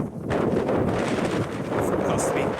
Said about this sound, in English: And it's a chilly old wind.